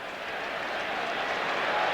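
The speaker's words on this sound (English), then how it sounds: "Justin Blumfield will get a very warm round of applause as he comes off for Essendon" A large Grand Final crowd at an Essendon versus Melbourne AFL match applauds warmly as Justin Blumfield leaves the field, steady broad clapping and cheering rising slightly over two seconds, continuous and distant-sounding with no gaps.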